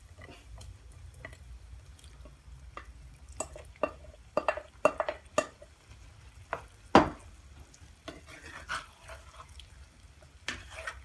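Cooked cassava is stirred into a masala in a pan for kappa mutta biriyani, giving irregular scraping knocks of the spoon against the pan over a faint low sizzle, with no talking.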